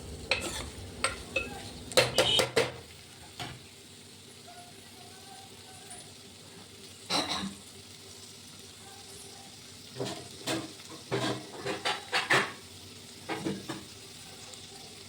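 Ivy gourd tossed with green chili and chili powder in a pan, stirred in repeated scraping bursts with pauses, each stroke close and clear over a faint background sizzle.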